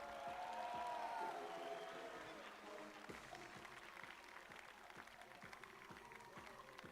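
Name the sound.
audience applause for the three teams at awards ceremony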